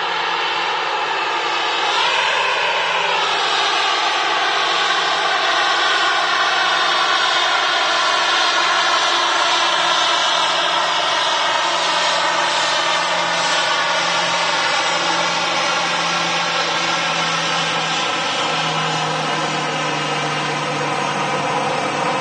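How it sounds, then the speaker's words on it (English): An airliner arriving at Manchester Airport after a flight from Rhodes roars continuously and loudly for over twenty seconds, a broad steady jet rumble with a slight shift in pitch early on. "Next arrival's not far off here, ladies and gents"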